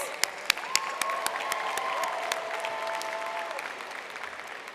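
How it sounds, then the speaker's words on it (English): Sustained applause from a convention audience at a state conference business session honoring committee chairs, steady and moderately loud with a few crisp nearby claps standing out. "Let's give one more round of applause to all of our committee chairs."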